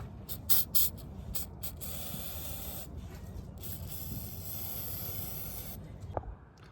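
Lubricant sprays onto new adjustable upper control arm bushings on a vehicle suspension, with a couple of sharp, close hissing bursts at the start and then a steady spray hiss through most of the clip.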